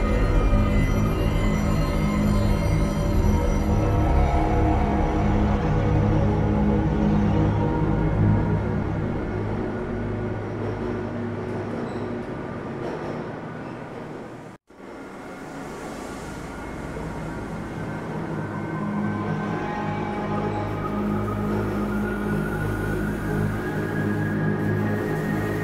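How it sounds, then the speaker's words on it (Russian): Black Mesa transport system train rolling along its track in the video game, a loud continuous mechanical rumble and hum, briefly cutting out at the midpoint before resuming just as steady. "Поезд следует из общежитий уровня 3 к испытательным лабораториям и центру управления сектора С."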